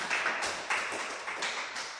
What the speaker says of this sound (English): Please, let's give him a hand clap.